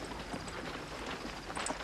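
Soft, irregular hoof clip-clops of a horse moving at a walk, fairly faint over a steady outdoor background hiss.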